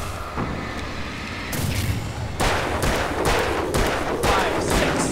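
Game gunfire in Alan Wake: a dense run of sharp shots and bursts that grows heavier and more rapid partway through, loud and continuous to the end.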